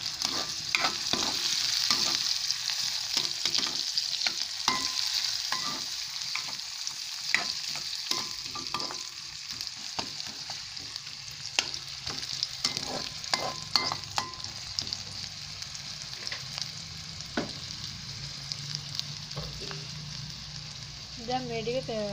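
Ingredients frying in a pan while being stirred and mixed, a steady sizzle broken by repeated scraping and clacking strokes of a utensil, with faint voices in the background.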